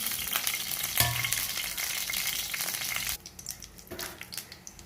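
Dried red chillies fry in a couple of spoons of hot oil in a kadai for lemon rice, giving a loud, dense, steady sizzle with stirring clatter that drops to a softer crackle partway through.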